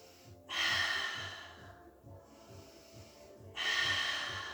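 A person breathes deeply and audibly during a yoga hip stretch, with two long, close, rushing breaths separated by a quieter pause.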